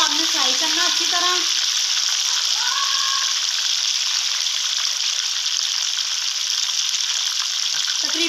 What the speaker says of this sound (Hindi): अब हम इसको जो है ना घी में फ्राई करेंगे, ये देखें आप तेज आंच पे इसको आपने फ्राई करना अच्छी तरह